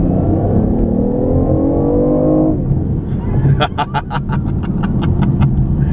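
A BMW i8 plug-in hybrid with 357 horsepower accelerates, its engine note climbing steadily and loudly before cutting off, followed by a rapid series of sharp crackling pops, all close by.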